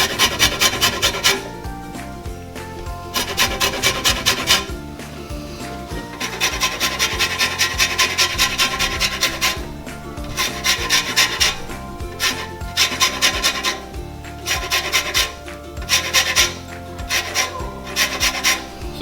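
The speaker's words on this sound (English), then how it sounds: "I'm just going to use a grater here and get some orange zest." Orange zest is rasped off the fruit on a plain grater in close, rhythmic bursts of rough scraping strokes, with short pauses between runs and no talking.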